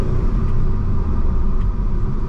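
A 1997 Eagle Talon TSi rumbles steadily while driving, its engine and road noise forming a loud, low, continuous drone with no talking.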